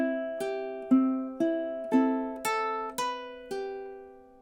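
Ukulele playing measure 15 of a song: seven clearly plucked notes or chords in an even beat, each ringing and decaying before the next, close and alone with no talk.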